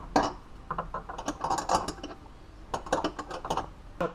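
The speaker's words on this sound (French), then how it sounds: "Ah là il faut visser, oui." A plastic fitting being screwed onto an Ideal 2FH2 reverse osmosis water system, producing close, quiet ratcheting clicks and creaks in short irregular bursts.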